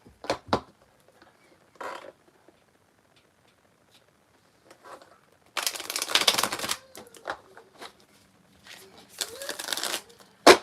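Tarot cards are shuffled in short riffling bursts with brief slaps and crinkles between quiet gaps, heard up close during a live reading.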